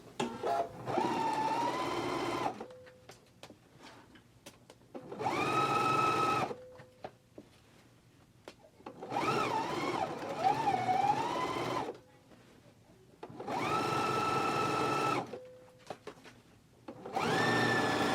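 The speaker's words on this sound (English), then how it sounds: "I'm going to stitch again right along that same stitching line to reinforce it. So let's go ahead and do this stitch now." A sewing machine runs in five separate bursts of a few seconds each, a near, whirring motor with rapid needle clatter, stitching and reinforcing the center seam of pants, with quiet pauses between runs.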